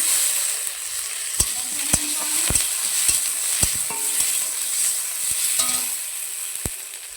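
Ginger garlic paste sizzles steadily in a hot pan, with a constant frying hiss broken by sharp clicks and scrapes of a stirring spoon against the metal.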